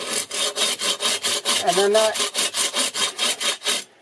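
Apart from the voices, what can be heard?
hand saw cutting soapstone along a line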